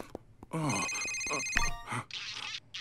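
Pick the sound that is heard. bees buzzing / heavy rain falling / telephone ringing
telephone ringing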